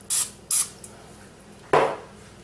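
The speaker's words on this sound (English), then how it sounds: "We're going to give it a squirt of cooking spray." Two quick hissing squirts of spray close up, followed after a pause by a longer sizzling spray burst.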